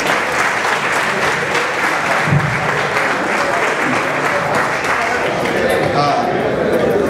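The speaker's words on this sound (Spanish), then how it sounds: "al cual le pido un fuerte aplauso" Loud, sustained applause from an audience welcoming the president of an association at a ceremony. The clapping is close and continuous, with crowd chatter mixed in beneath it.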